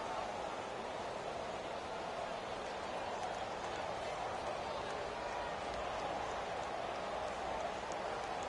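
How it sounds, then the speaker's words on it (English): Constant rain hiss in a Madden football video game, a dense steady wash of falling rain with no breaks for the whole stretch, at moderate level. "the forecast called for rain throughout the entire game, and we got rain throughout the entire game"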